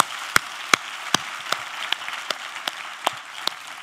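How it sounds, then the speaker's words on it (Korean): A church congregation at a winter revival meeting claps in unison, sharp synchronized claps landing at an even, steady beat over a soft background wash. "우리 하나님께 감사와 영광의 박수를 드리겠습니다."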